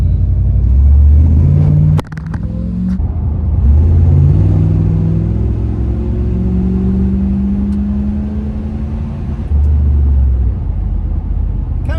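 A 1973 Dodge Polara 440 V8 police car engine rumbles loudly from inside as the car accelerates and shifts through gears, with a brief clunk early on.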